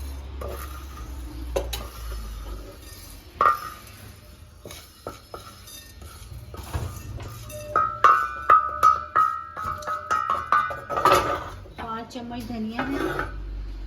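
Dry-roasted coriander seeds being scraped off a very hot griddle, with repeated metallic clinks and scrapes of utensil on metal, clattering busier and louder toward the end amid kitchen noise.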